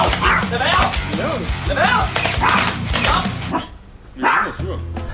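A dog barks in short bursts close by while people talk over it, the barking mixing with their voices before a brief pause.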